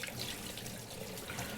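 Tap water pours in a steady, full rush while sneakers are rinsed, a close, continuous splashing flow with no pauses.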